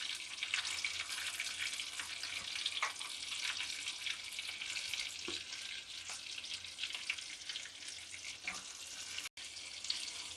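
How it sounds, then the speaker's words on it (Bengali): Sliced onions sautéing lightly in a pan while making honey garlic chicken give a continuous, even hiss and sizzle, close and moderately soft, with a brief drop out near the end. "এবার পেঁয়াজটাকে আমি একটুখানি হালকা করে সতে করে নিচ্ছি।"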